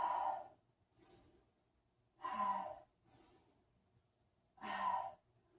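Slow, deep breaths during a beginner yoga side stretch, three loud airy exhales spaced a couple of seconds apart with softer inhales between, close and quiet otherwise.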